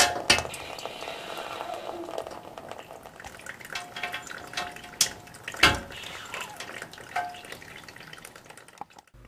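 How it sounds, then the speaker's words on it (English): Water trickling and splashing into a tub as a radiator valve nut is loosened to drain a household radiator, with a few metallic clinks and knocks over the steady running flow, close by. "Supporting the radiator valve, loosen the nut to let the water drain into the tub."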